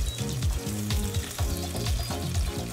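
Tilapia fillets fry in a pan with a steady, close sizzle and soft crackle, continuous throughout with no talking, while low-pitched music plays underneath.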